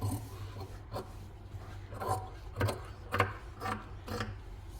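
Scissors cut fabric around the stitched neck seam of a nightgown, giving a series of soft, close rasping snips, about six to seven strokes spaced roughly half a second apart, quiet and alone.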